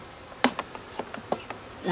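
Honey bees buzz faintly around a package bee install, with scattered light ticks and taps from the hive work breaking the low hum.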